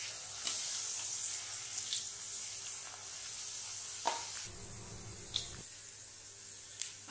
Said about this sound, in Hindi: हम उतना वेफर्स डालेंगे और अच्छे से फ्राई करेंगे